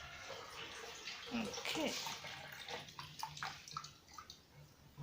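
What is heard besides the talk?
washing machine washing laundry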